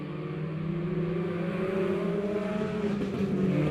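Race cars roar together at the start of a heat race on a dirt oval track at Lebanon Midway Speedway, a dense, loud engine drone rising steadily in pitch with no pauses.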